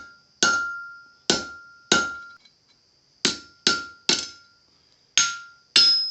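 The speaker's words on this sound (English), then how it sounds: "and hammer down a little bit, then we'll take it over and grind it down" A blacksmith hammers hot steel on an anvil while forging leaf earrings, eight sharp ringing strikes spaced irregularly, each loud close blow decaying with a bright metallic ring.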